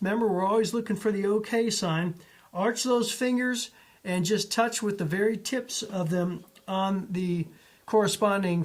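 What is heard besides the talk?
No distinct noise like a dog, phone or traffic.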